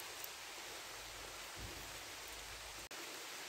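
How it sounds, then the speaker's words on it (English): Rain coming down on a wild camp in Scotland, a dense, even patter and hiss of falling drops with one brief dropout near the end, heard alone with no voices. "rain's coming down"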